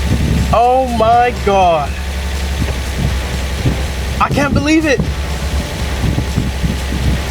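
A Nissan 350Z with a freshly swapped engine idles steadily after its first start, a low continuous rumble running under excited speech and exclamations throughout.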